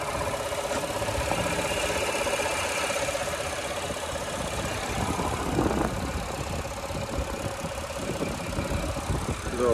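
Idling 3.6 liter V6 engine of a 2019 Chevrolet Blazer RS, an even, steady mechanical hum with a light ticking texture, heard close and continuous.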